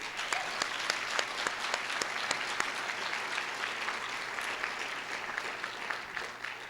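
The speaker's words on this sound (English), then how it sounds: "Let's give them another round of applause" An audience applauds candidates at a debate for California's 24th Congressional District. A dense, steady round of clapping from many people fills the room at moderate distance and holds evenly throughout, with sharp individual claps popping out of the wash.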